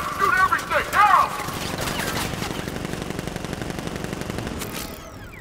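Gunfire in Batman Arkham Knight, with several loud close bursts at the start followed by a long stretch of steady, rattling automatic fire at a moderate level; no voices are heard.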